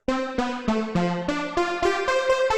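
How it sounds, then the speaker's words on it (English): Synth keys play a short stepping melody of about nine sustained notes, bright and shimmering with a wide, slightly wavering chorus character, no voices. "And then I added a chorus, which makes it a little wider."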